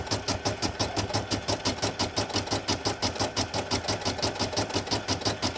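A Brother PE800 embroidery machine stitches a Christmas reusable gift bag design, its needle hammering in a fast, regular rhythm of close, loud mechanical beats that continue without pause.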